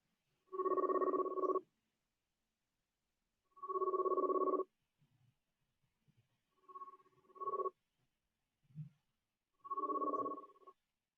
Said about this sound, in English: don't act like the phone ain't ringing